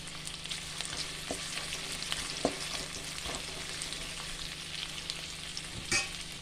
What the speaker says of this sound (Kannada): ಇನ್ನೊಂದು ಪ್ಯಾನಿಗೆ ಸ್ವಲ್ಪ ತುಪ್ಪ ಹಾಕಿ ನಾನು ಕಟ್ ಮಾಡಿದ್ದ ಈರುಳ್ಳಿ ಹಾಕ್ತಾ ಇದ್ದೇನೆ